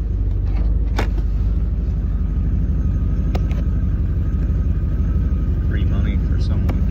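A car engine just after a cold start runs with a steady, loud low rumble close by, a few faint clicks and knocks sitting over the constant drone.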